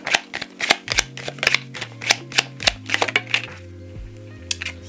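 Small tarot deck being shuffled close up, a rapid series of crisp riffling card flicks and slaps in uneven bursts, with a low background hum and no talking.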